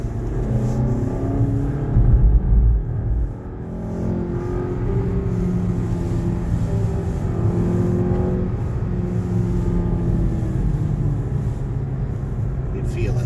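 A new-model Mazda CX-5 hybrid accelerates in manually selected second gear, a steady engine drone rising under someone talking through much of the passage.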